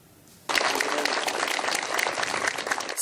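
Applause bursts out suddenly after a quiet moment at an equipment handover ceremony in a Nizhnekamsk college, a crowd clapping densely and steadily from then on.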